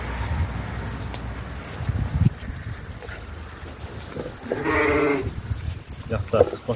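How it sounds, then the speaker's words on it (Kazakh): A Hissar sheep bleats once, a wavering call in the middle of a rural scene, with people talking around it. "Жақта қостанның гисар қойлары бар."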